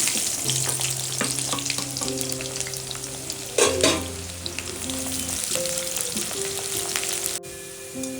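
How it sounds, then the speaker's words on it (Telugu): Onions and mustard seeds fry in hot oil for a Nellore-style taro and mutton stew. A constant close sizzle runs throughout, with occasional stirring scrapes, a steady background tone and no voices. "ఆయిల్ వేడెక్కాక కొద్దిగా ఆవాలు వేసుకోండి. ఇప్పుడు ఎర్రగడ్డలు వేసేసి"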